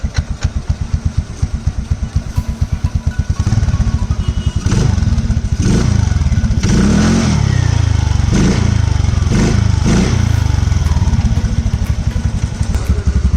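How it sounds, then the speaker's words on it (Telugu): A TVS Ntorq 125cc scooter with its air filter removed idles with a rapid, loud putter, then revs up hard into a thick, sustained roar with repeated surges of throttle, close by and with no talking. "సో బండిది ఇప్పుడే ఎయిర్ ఫిల్టర్ వీకినాం, సౌండ్ ఎట్లా వస్తుంది చెప్పడానికి."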